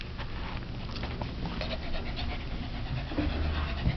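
A puppy pants rapidly and continuously close by, quick breathy huffs with small whimpery sounds mixed in.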